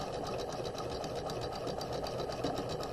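A sewing machine runs steadily, stitching down the side seam of a raglan sleeve bodice in a continuous close whir with a fast even needle rhythm and no pauses.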